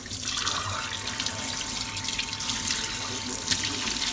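Tap water runs steadily into a kitchen sink while dishes are washed, a close, continuous hissing splash with a small clink near the end.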